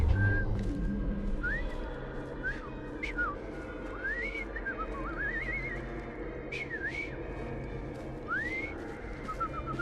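A character whistles in the video game Assassin's Creed Syndicate: a string of short, rising and falling whistled notes, playful and uneven, heard clearly over a low murmuring background.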